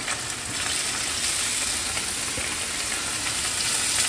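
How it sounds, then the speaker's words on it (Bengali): Fish, some full of roe, sizzling steadily in hot oil seasoned with salt and turmeric on a gas flame, a dense close crackle that holds at an even level throughout. "তো আমি লবণ হলুদ তেলের মধ্যে দিয়ে দিয়েছি। এবারে মাছগুলোকে আস্তে আস্তে বসিয়ে দিচ্ছি, সাবধানে।"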